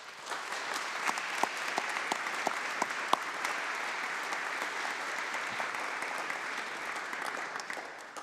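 Applause for award winners at the 2017 Maxwell School graduate convocation, a large indoor audience clapping steadily at moderate distance for several seconds with scattered sharper claps.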